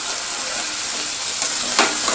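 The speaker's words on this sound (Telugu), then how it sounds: "ఆలుగడ్డలు వేసుకున్నాక మళ్ళీ అంతా మిక్స్ అయ్యేటట్టు బాగా కలుపుకోవాలి" Potatoes and onions fry in hot oil in a kadai while being stirred, a steady loud sizzle with brief scraping stir sounds toward the end.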